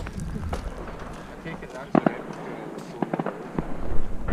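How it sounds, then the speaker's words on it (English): Gunshots from shooting practice at a game fair in Scotland crack out in a few sharp reports, distant and scattered against outdoor background noise. "I wonder what all the gunshots are"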